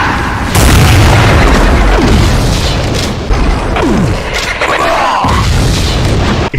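Loud, dense explosive rumble from an Archvile variant's flame attack in a Doom mod, booming continuously over several seconds with layered bursts and crashes of busy game combat.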